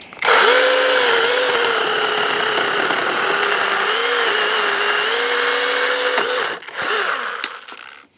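A cheap mini cordless 6-inch chainsaw cuts through wood, its loud, steady electric whine holding close and constant for several seconds before the pitch dips and it winds down to a stop.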